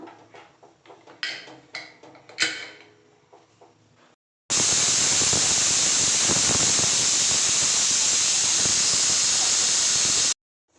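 A pressure cooker whistle shrieks loud and steady for about six seconds, a sustained high hissing blast of escaping steam while rice with masala cooks for paneer biryani, preceded by quieter kitchen clatter.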